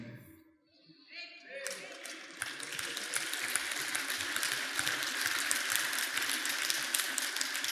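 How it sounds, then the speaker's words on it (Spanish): A church congregation breaking into loud applause, many hands clapping in a dense, sustained wash after a short quiet lead-in with a voice. "Fuerte aplauso."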